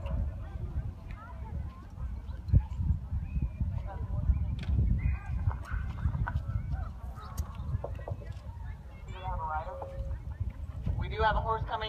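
Horse hooves clip-clop at a distance, a ridden horse arriving at a pack horse race in Dubois, Wyoming, beneath a busy outdoor mix of chatter, honking geese and general crowd noise.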